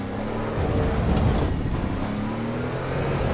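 A race car engine in the Assetto Corsa Evo sim racing game after patch 0.4 gives a steady, loud, dense drone that swells slightly midway and continues throughout, with no talking.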